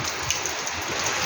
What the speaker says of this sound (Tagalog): Dito lang muna tayo sa tapat ng bahay kasi medyo malakas-lakas yung ulan